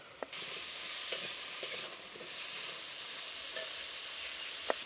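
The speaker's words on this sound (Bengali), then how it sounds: "সিদ্ধ করে রাখা ডুমুরটা এখন দিয়ে দেব" Boiled figs go into a pan of lightly fried potatoes with turmeric and salt for a rustic Bengali vegetarian dish, a soft, steady sizzle broken by a few sharp spatula scrapes and taps.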